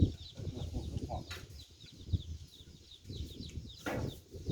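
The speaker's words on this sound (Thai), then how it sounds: "ไก่มันตีอะ" Chickens clucking and scuffling in a fight outdoors by a rice-field hut, with a steady run of low, close clucks and a couple of sharper squawks.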